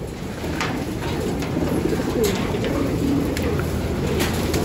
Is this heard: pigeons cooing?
yes